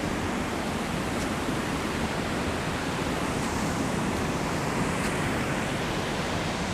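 Waterfall at Gorges State Park, a steady broadband rush of falling water that holds evenly throughout with no talk over it.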